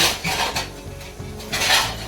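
Cooking pots and metal utensils are set out in a home kitchen before cooking begins, with clinks and scrapes of metal on metal coming in several close, fairly loud bursts.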